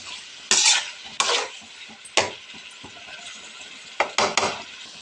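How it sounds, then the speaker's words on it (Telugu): Tomatoes are stirred into a brinjal and green pea masala curry in a pan: several distinct metal spoon scrapes and clinks stand out over a soft background sizzle, with no talking. "టమాటాలో ఇది మొత్తం ఒకసారి మిక్స్ చేసి మూత పెట్టేద్దాం."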